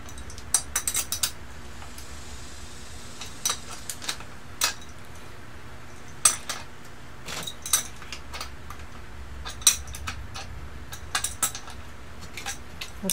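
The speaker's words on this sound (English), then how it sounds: "I have to hold the bolt while I tighten the nut" Sharp metallic clicks and ticks come in irregular bursts as a nut is tightened onto a bolt while an office chair base is assembled into a tripod, close and fairly quiet over a faint background hum.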